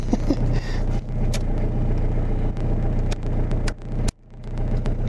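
Diesel engine of a Renault Master 2.5D L2H2 van idling, heard from inside the cab as a steady, muffled low rumble with a few faint clicks and knocks on top and no talk.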